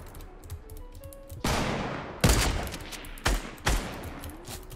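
Gunfire in the Fortnite battle royale video game, several loud sharp shots and bursts spaced a second or so apart over lighter mechanical clicking, close and punchy.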